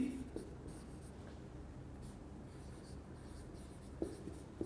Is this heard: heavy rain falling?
no